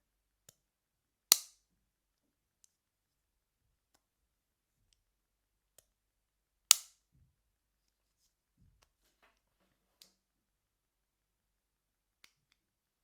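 An IKEA bag clip being opened gives two sharp, close, isolated plastic snaps several seconds apart, with a few faint ticks in between and near silence otherwise.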